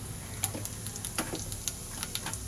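Cumin seeds sizzle in hot oil in a pan for pulao, a steady crackling fry with sharp little pops and ticks scattered throughout, close and moderately loud, no voices.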